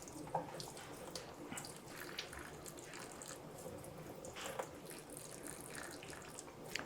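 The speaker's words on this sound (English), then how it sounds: "We're just gonna carefully water it in." Water runs at a sink onto a repotted Monstera Thai Constellation in chunky aroid mix, a faint, steady trickle and splash with small irregular drips throughout.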